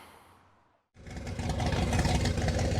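A clapped-out 1955 Chevy gasser engine firing up in a garage after storage: a short quiet moment, then the motor catches and settles into a loud, rough, steady idle with a lumpy rumble.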